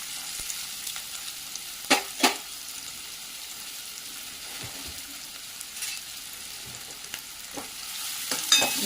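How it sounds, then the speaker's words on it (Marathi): Chopped onion frying in hot oil with asafoetida and cumin, a continuous close sizzle broken by a few sharp spatula scrapes and clinks against the pan. "त्यानंतर आपण कट केलेला कांदा घालूया."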